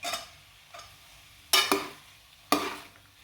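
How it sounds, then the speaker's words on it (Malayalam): Raisins mixed into a ripe jackfruit batter for kumbil appam, with a handful of spoon scrapes and clacks against the bowl, two of them sharper and louder, separated by quiet gaps. "നന്നായിട്ട് മിക്സ് ചെയ്യാം."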